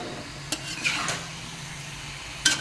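A ladle stirs mutton pieces coated in masala inside a cooking pot, with a few distinct metallic clanks and scraping strokes over a soft background sizzle, close by and without talk.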